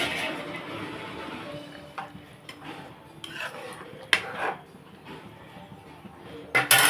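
Pieces of egg dosa are dropped and stirred into a pot of boiling tamarind egg curry, with soft scattered clinks and scrapes of a metal spoon against the pot over a low, steady simmer.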